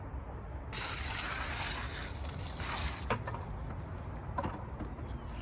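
Water sprayed from a hose onto a steaming backyard compost pile, a steady broadband hiss of spray that starts abruptly and runs continuously, close and fairly loud, with a few brief knocks near the end.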